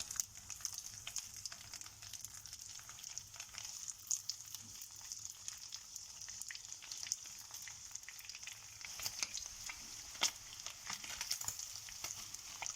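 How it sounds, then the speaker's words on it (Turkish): Cheese slices fry in a pan of melted fat, giving a steady, soft hiss of sizzling with scattered small pops and crackles throughout, close and alone with no voices. "Peynirlerimiz kızarmaya başladılar"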